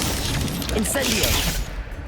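A fiery Incendio spell cast in Hogwarts Legacy, a short crackling burst of bright noise that flares loud and then cuts away, with a voice speaking over it.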